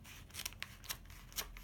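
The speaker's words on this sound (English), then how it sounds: "I'm going to grab my scissors and I'm going to cut away" Scissors cutting away vinyl sign backing, a few quiet separate snips and rubbing crunches, faint and close with no talk.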